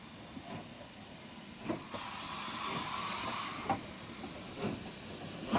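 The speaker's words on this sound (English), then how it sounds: "Here the loco is moving off the front of the passenger train at Oxenhope." Standard 4 steam locomotive 75078 pulls away at Oxenhope station on the Keighley and Worth Valley Railway, with loud hissing bursts of steam and rhythmic chuffs, alongside clanks of rolling wagons close by.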